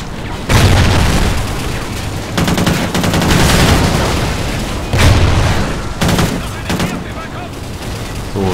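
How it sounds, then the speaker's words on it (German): Booming explosions and sustained automatic gunfire fill a Call of Duty Ghosts battle, loud and continuous with repeated heavy blasts, while a voice speaks briefly. "Granate."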